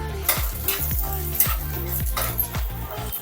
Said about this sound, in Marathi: आणि हा कांदा ह्याच्यामध्ये चांगला परतून घेऊया